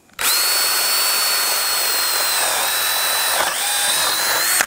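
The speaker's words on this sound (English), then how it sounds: "So what we're gonna do is drive our drill into the back of the brace right here." A power drill drives straight through the back of a steel target brace, whining loud and steady for about four seconds with a brief dip in pitch partway through, alone without talk.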